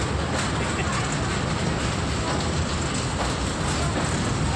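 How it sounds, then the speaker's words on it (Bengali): A freight train rolls into Naihati station in India on a platform line, a loud, steady, broadband rumble of wagons that stays close and continuous throughout. "8 নম্বর লাইনে মালগাড়িটি 7 নম্বর লাইনে মালগাড়িটি ঢুকলো"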